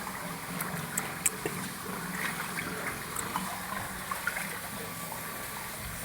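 Water from a switched-on irrigation feeder pump flows steadily in the open, a continuous rushing trickle with small splashes and faint clicks scattered through it, no talking.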